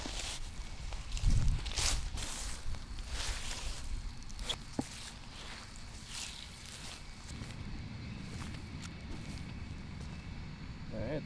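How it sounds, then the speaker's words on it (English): Footsteps recorded outdoors for cinematic film sound design, heard as a series of crunching, shuffling steps close to the microphone over a rough ambient background, with a louder thump near the start. "All right, guys, now it's time to capture the footsteps."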